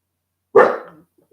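A single sharp dog bark from a small pup, close and loud, with a short trailing tail and then quiet.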